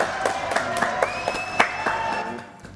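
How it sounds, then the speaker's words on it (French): A studio audience gives a short burst of clapping and cheers for a father and son contestant pair on a French game show, with distinct claps over crowd noise that tapers off near the end. "on va applaudir Pablo et Victor"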